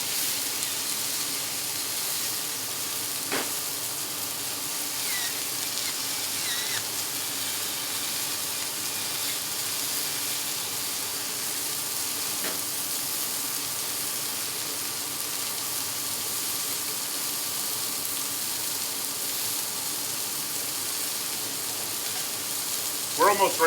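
Mushrooms and onions fry on a griddle top with a steady, soft hiss and sizzle that continues unbroken, with a few faint clicks and a brief clatter near the end.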